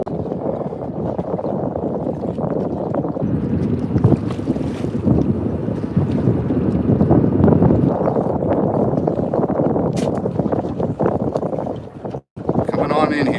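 Large ship, the Crosby Leader, passing in St. Simons Sound, a steady low rumble and wash under heavy wind noise on the microphone, loud and continuous throughout.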